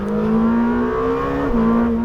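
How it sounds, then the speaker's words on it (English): Twin-turbo V8 engine of a Lamborghini Temerario on a track, a loud, steady low-pitched drone that climbs slightly in pitch, dips briefly and then holds, heard close and alone. "This twin turbo V8 packs an incredible punch, but I have to say, the sound doesn't quite have the drama of"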